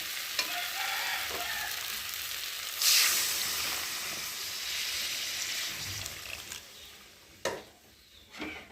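Water poured onto fried mustard masala in a pan sets off a loud burst of sizzling hiss, settling into steady bubbling frying with spatula scrapes and a couple of sharp clatters near the end.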